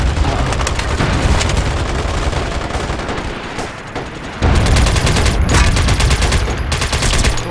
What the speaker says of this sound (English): I'm using that LMG.